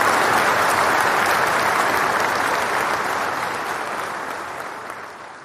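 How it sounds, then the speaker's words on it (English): An audience on a radio show breaks into loud, dense applause that holds steady at first and then gradually fades over several seconds, with no talking over it. "You know you're about to get another round of applause."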